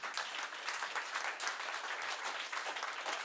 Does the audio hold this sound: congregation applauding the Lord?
yes